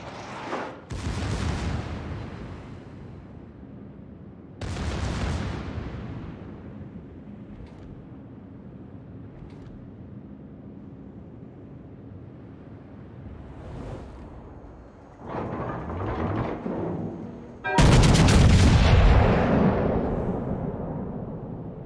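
Ship cannon broadside fire in a naval video game: several heavy booming blasts spaced irregularly over quiet gaps, the last and loudest a sustained roaring volley near the end, no voices.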